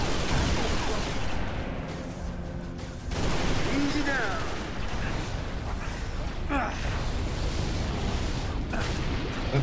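Focus rifle fire in the Halo Reach campaign, part of a dense, continuous barrage of game gunfire and explosions that fills the whole stretch, loud and near with no clear gaps.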